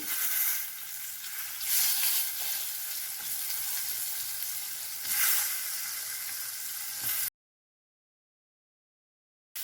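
Steady sizzling from an egg frying in a hot pan, soft crackles swelling twice, then the sound cuts off abruptly to silence.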